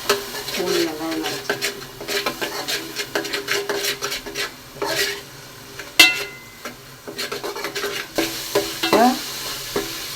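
Ground onion paste sautés for fish curry in a pan with a low sizzle, under repeated scraping and clanking of a ladle against the vessel in an irregular rhythm, with brief voices here and there.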